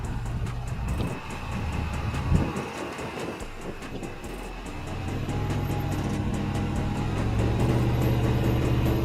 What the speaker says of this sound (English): The Range Rover starts driving in a standard mode.